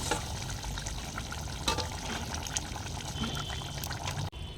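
Water is poured into a pot of simmering potato and spice curry for a fish dish. A steady, close splashing stream runs for several seconds and is cut off abruptly near the end.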